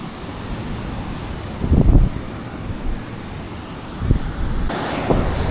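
Waves washing ashore on Antervedi beach, where the Godavari river meets the sea, a steady wind-blown surf roar with a few louder swells breaking, no voices.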